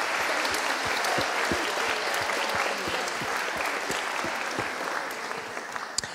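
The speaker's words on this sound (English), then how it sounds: "So if you would just help me give those parents a round of applause" Audience at a 6th grade graduation ceremony applauding parents, sustained crowd clapping with some individual sharp claps close by, steady throughout.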